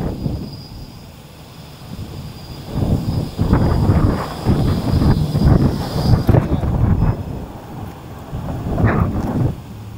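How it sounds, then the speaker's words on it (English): Strong outdoor wind buffets the microphone in heavy, rumbling gusts that swell and fade throughout, with faint voices underneath. "So is the wind affecting it?"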